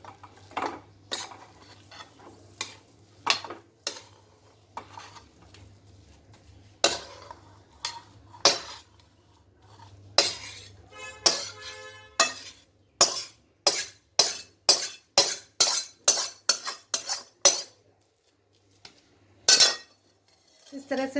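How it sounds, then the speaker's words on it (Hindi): Carrot halwa being spooned from a metal pot into a container in a home kitchen, a run of sharp clinks and scrapes of spoon on metal, sparse at first then rapid and rhythmic, close and clear. "गाजर के हलवा को मैं एक बर्तन में निकाल के उसे"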